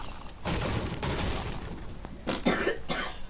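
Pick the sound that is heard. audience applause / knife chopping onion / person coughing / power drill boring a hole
person coughing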